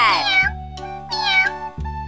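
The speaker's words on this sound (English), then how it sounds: "Cat." A domestic cat meows three times, the first two calls long and drawn out and the last one brief, heard clearly and close with no talk.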